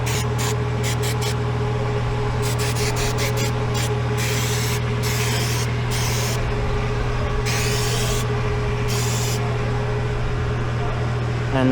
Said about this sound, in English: Spray the roller too. The whole roller with the chain lube?